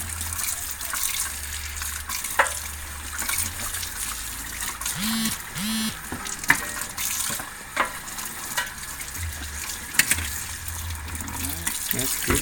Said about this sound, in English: You can run the water a little bit.